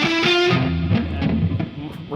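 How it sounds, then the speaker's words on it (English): Electric guitar played with alternate outside picking, a short run of quick distorted picked notes ringing close and clear, thinning toward the end. "we're going to do alternate picking and focus on what is called outside picking"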